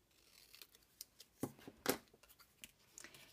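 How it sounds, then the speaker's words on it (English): Scissors cut a small slit in a heart-shaped paper piece, making faint, close crisp snips and rustles with two brighter cuts in the middle, very quiet overall. "just cut a small slit in the middle"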